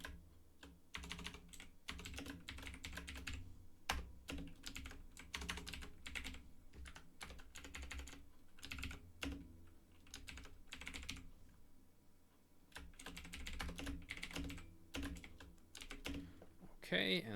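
Fingers type code on a computer keyboard during compiler programming work, making a soft, rapid clatter of key clicks that runs throughout, pausing briefly now and then, beneath a person's talk.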